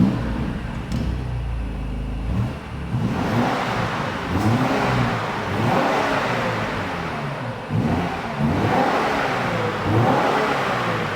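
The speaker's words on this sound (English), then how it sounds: "it's time to listen to the sound of this BMW X5M" A 2026 BMW X5M with a full carbon LARTE Design kit revs its engine in repeated surging bursts, each climb and drop sounding loud and close, with a steady engine drone between the pulls and no voices.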